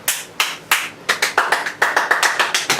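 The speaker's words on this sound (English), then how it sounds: "Okay. Clap." Sharp hand claps for camera sync at the start of a podcast recording, close and loud: a few spaced single claps, then a faster uneven run of claps from more than one person.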